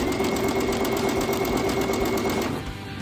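A sewing machine chain-pieces quilt fabric, stitching a steady, rapid mechanical whir that runs loud and close for most of the stretch before easing off near the end.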